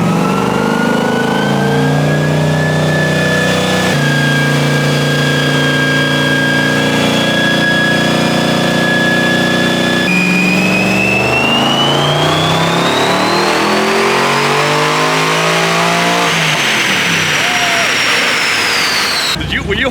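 An LS1 V8 swapped into a Nissan 300ZX revs hard on a dyno, climbing through rising pulls with a loud, rowdy exhaust and a high whine, holding near and loud throughout.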